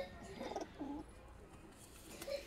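A horned pigeon kept for sale coos in a few soft, low, throaty bursts close by, with short pauses between calls over faint background noise.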